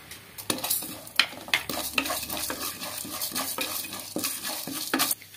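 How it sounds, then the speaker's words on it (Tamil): Chana dal and urad dal being roasted in a pan for beetroot chutney, with a spoon scraping and stirring in repeated sharp strokes over a faint steady sizzle, no voices. "கடலை பருப்பு கூடயே நம்ம உளுத்தம் பருப்பையும் ஆட் பண்ணிக்கலாம்."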